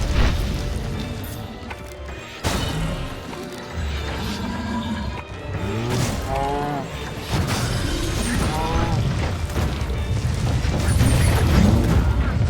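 Bombs burst in the Minecraft Dungeons video game, several sharp booming crashes spaced a few seconds apart over game noise, with someone talking through most of it.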